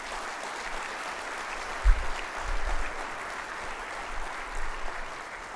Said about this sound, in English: a round of applause for the GoGo team